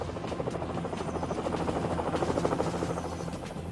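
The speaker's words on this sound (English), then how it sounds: "Helicopter gunships soon arrived to assist." Military helicopter gunships approach with a loud, close, rapid rhythmic rotor chop over a constant engine drone that swells slightly as they arrive.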